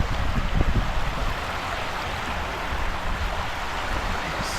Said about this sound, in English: Just the sound of the water.